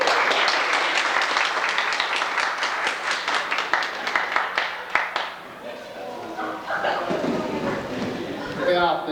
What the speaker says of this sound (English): Okay, give them applause.